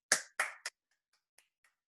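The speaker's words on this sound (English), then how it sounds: "I'm going to clap because this was a great presentation" A few claps sound over a video call after a chemistry seminar presentation: three quick, close, sharp hand claps, then a handful of faint, scattered single claps from other callers.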